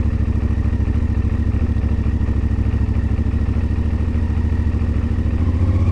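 A CFMoto Ibex 450 motorcycle engine putters steadily and loudly at low revs in first gear, crawling slowly and sounding close, with a rapid, even pulsing and no voices.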